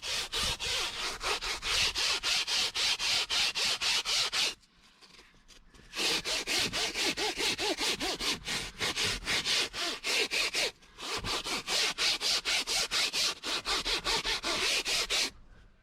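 A stiff bristle brush attachment scrubs greasy car upholstery fabric by hand, a loud, rapid back-and-forth rasping in steady bursts, broken by two short pauses, with no talking.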